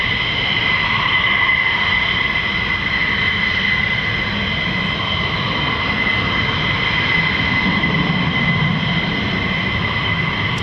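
A steady, loud roar from an F-15E Strike Eagle fighter jet at RAF Lakenheath, a continuous even jet-engine drone with a high whine layered over broad low rumble, holding constant throughout.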